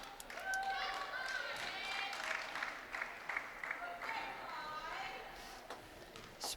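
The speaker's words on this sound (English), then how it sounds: "Springford bench getting a little rowdy over there, cheering for their team." Spring-Ford bench cheering at a girls basketball game against Norristown, excited shouts and whoops from a group ringing out in a gym, with scattered claps and sneaker squeaks under commentary talk.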